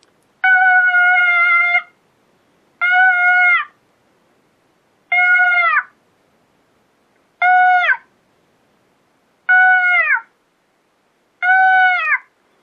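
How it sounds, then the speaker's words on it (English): A Primos Dogg Catcher electronic predator call plays a baby fawn distress call: six loud, nasal bleats, each lasting about a second, separated by short even silences, with no other sound. "Next one's a baby fawn."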